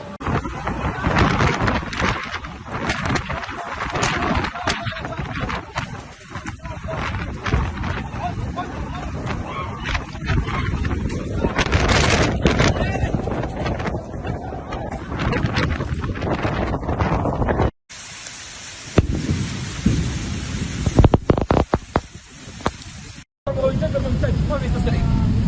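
Strong storm winds roar through the holy city of Mecca, a loud continuous buffeting of wind on the microphone across the whole stretch, with brief dropouts and sharper gusts later on.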